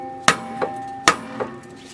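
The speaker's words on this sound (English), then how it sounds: "Sometimes it gets stuck and you have to hit with the big hammer" Two heavy metallic hammer strikes on a stuck car brake rotor about a second apart, each followed by a quieter ringing tap, loud and close.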